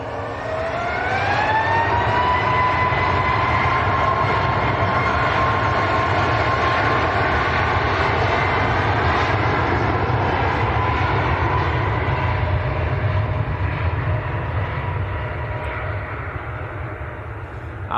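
A Ryanair jet bound for Gothenburg at Manchester Airport roars loud and close, its engine whine sliding upward and then holding a steady tone through a sustained rumble that eases slightly near the end.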